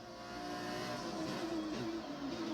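Formula race car engine in a racing video game, part of an F2 to F1 career, heard as a steady, loud, continuous engine drone while the car slides around the track.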